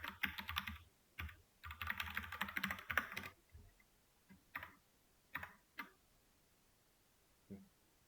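Typing on a computer keyboard during a coding lesson: quick bursts of close key clicks, then scattered single taps separated by pauses, quiet and with no talk.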